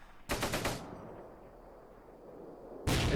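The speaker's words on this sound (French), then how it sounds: "Ah, ça tire là-bas aussi. Ça tire d'en haut." Two bursts of automatic gunfire from the World War II strategy game Close Combat: a rapid machine-gun rattle near the start, then a quiet pause, then another burst beginning at the end.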